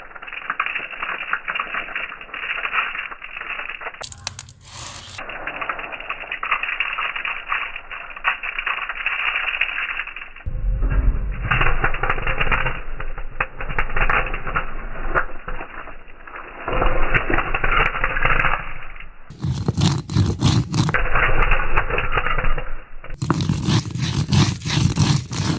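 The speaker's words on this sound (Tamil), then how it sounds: "இப்போ பருப்பு அரைச்சிக்கலாம்." Mixer grinder running loudly and continuously while grinding lentils for Tamil pirandai (adamant creeper) thuvaiyal chutney, its motor drone shifting in pitch and texture as it starts, stops briefly and restarts in several bursts.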